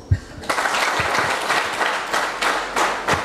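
Audience applause at a Youth Volunteers gathering in Rwamagana district, Rwanda: a sustained, fairly loud wash of many hands clapping that begins after a brief pause and holds steady, with a few sharper claps standing out.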